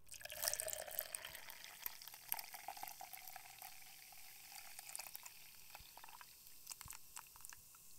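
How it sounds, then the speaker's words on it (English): Tea being poured into a cup at close range: a soft, steady trickle of liquid, quiet and intimate with faint splashes, and no talking over it. "I'm gonna pour myself a cup real quick."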